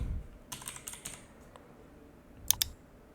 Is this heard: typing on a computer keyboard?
yes